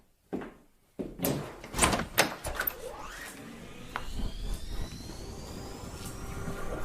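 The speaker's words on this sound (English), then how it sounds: "A gust of air whirled round me as I opened the door." Door opening, with a rattling handle and a series of clunks and knocks, then a steady rushing whoosh like air or wind, heard alone in an audiobook reading.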